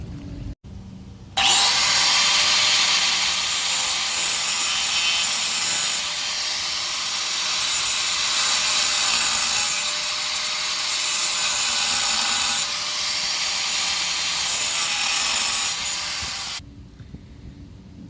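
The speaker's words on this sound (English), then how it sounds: "These are the grooves that I made with the grinder, with the cut-off blade." Angle grinder with a cut-off blade cutting grooves into steel on a car hauler trailer, a loud, continuous high-pitched whine and scream lasting about fifteen seconds, starting abruptly and stopping abruptly.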